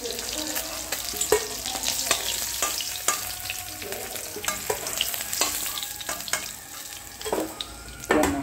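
Fish sizzling and frying in a pan for an elephant apple fish curry, a steady crackling hiss broken by repeated stirring scrapes and clinks, loud and close throughout.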